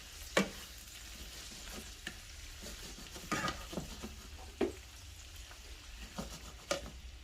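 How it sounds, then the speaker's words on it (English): Kalamata olives being stirred in a hot frying pan for a puttanesca sauce, with a steady low sizzle and several distinct scraping, clacking stirs of the spoon at irregular intervals, close and alone. "Give that a stir."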